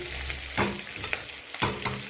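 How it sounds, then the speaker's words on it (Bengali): Cauliflower florets and potato pieces fry in hot oil without any spices yet, giving a steady close sizzle broken by a few scraping stirs in the pan. "খালি ফুলকপি আলুটা তেলের উপরে ভাজা হচ্ছে"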